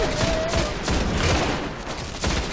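Rapid bursts of gunfire from the video game Destiny, a dense run of shots filling the whole moment at steady loudness, with no talking over it.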